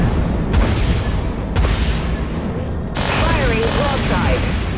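Missile impacts and heavy ship weapon fire in the Dreadnought space battle game, loud, continuous booming and rumbling blasts, with several thumping hits and a warbling alarm-like tone over the din.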